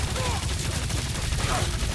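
Sustained gunfire from the video game Marvel's Guardians of the Galaxy, a dense continuous fusillade of rapid shots that stays loud and steady throughout, with game voices faintly mixed in.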